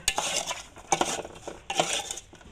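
A utensil scrapes and clatters against a metal pot in a few quick strokes while stirring duck larb, close by with short pauses between the rhythmic stirring motions.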